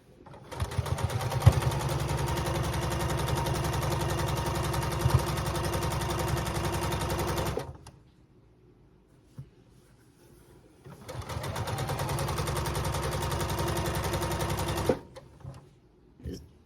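A sewing machine sews quilt block pieces in two long runs of rapid, even stitching, with a pause of near silence between them, heard up close and alone.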